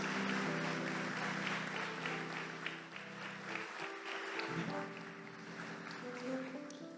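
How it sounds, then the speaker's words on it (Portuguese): A church congregation claps in sustained, dense applause during a Portuguese-language service, with a held organ-like tone underneath and a faint voice briefly audible. "Aplauda Jesus"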